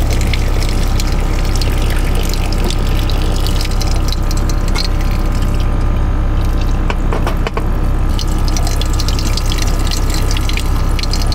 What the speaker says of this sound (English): The reason I added cold water is to cool the lobster so that it stops cooking.